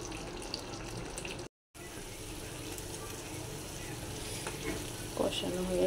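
Curry being sautéed in a pan, a soft continuous sizzle with light stirring, a brief dropout early on and a few clinks near the end.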